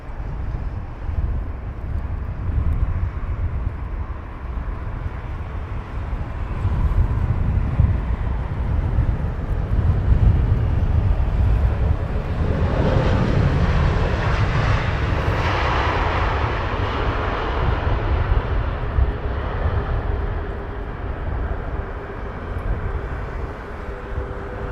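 Airliners, including Virgin and American jets, fly over Heathrow Airport with a broad, continuous jet roar that swells toward the middle and fades, heard outdoors with some wind.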